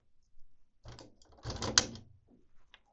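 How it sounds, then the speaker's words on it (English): Ink cartridges are pulled from their slots in a Canon printer, producing a few close, quiet plastic clicks and a slide, with a sharper snap near the middle. "remove the cartridges from the printer."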